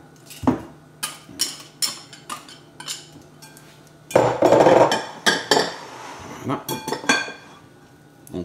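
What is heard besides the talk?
mixing butter with icing sugar in a bowl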